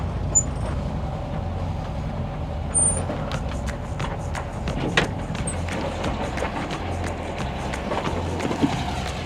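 A classic Brazilian-built VW bus, about 50 years old, drives along with a steady low engine drone and road rumble that hold throughout, marked by a few brief clicks and rattles.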